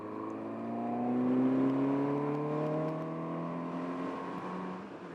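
A 2020 Suzuki GSX 750 S Phantom motorcycle's engine drones steadily while riding, its harmonic tone rising and falling gently with throttle over a continuous wind-rush, loud and close with no talk.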